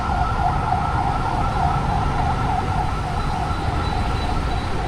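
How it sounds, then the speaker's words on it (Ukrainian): An ambulance siren wails steadily as it passes along a street in Da Nang, Vietnam, loud and close over a constant rumble of road traffic, with no voices. "Швидка допомога поїхала."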